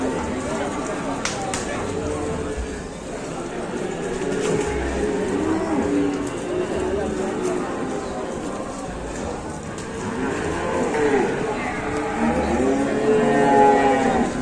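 A recently unloaded cow, agitated after coming off a truck, lets out drawn-out moos and bellows, close and fairly loud, with people's voices and commotion mixed in around it.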